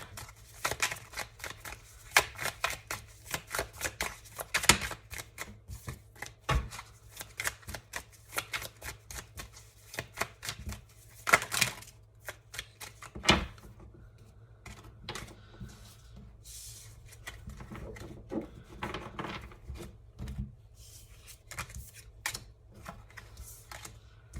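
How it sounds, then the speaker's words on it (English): Rapid crisp riffling and soft slaps of tarot cards being shuffled, repeating in bursts at close range with no voices. "I'm going to keep shuffling until we get about 5 more cards"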